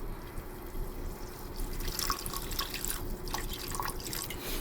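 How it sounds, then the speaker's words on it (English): Water trickles and drips steadily into chilli paneer sauce, a close, continuous light splashing with soft splashes and no voices. "Now we are going to add a little bit of water."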